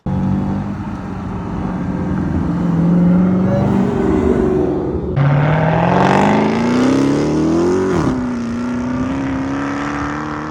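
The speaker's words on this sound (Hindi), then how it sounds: "उससे कहीं ज्यादा क्रेजी इसकी सुपर चार्ज वाइन है, स्पेशली अराउंड 3000 RPM भी।" A 2023 Dodge Charger SRT Hellcat Redeye with a 2.7-litre supercharger revs loudly up close, a high whine climbing in pitch over a deep engine roar, dropping briefly between pulls, then settling into a steady drone.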